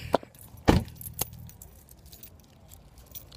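Keys jangle in two or three quick bursts while a Mitsubishi Lancer GT is being locked, followed by a sharp click, then quiet outdoor background at a park.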